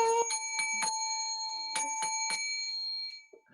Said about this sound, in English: When he's ringing that bell